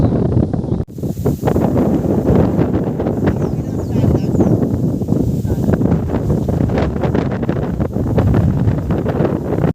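Strong, steady wind on a mountain top roars and buffets the microphone continuously, loud and close, with a brief dip near the start.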